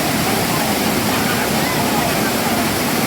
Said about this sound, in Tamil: காட்டுக்குள்ளே இப்படி ஒரு அருவி பாருங்க.